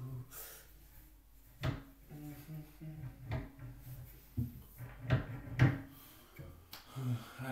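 Train doors being opened and closed, heard as a series of close wooden-sounding knocks, thumps and clacks at irregular intervals, with faint speech in the background between them.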